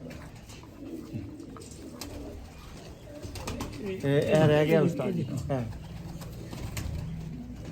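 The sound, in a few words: pigeon cooing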